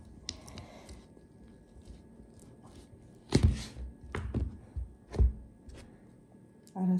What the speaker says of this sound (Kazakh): Холодесімді кесейін, кішкене қатты.